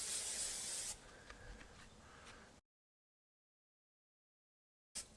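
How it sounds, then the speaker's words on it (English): A can of Pam cooking spray hisses in a loud burst inside a drum smoker, then continues in a steadier, softer spray for over a second before cutting to silence. "I'm going to go ahead and take some Pam and spray the inside of the drum."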